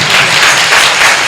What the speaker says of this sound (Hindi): आप अगर शुक्रगुजारी से भरे हैं तो इस कलाम के लिए जोरदार तालियां बजा सकते हैं।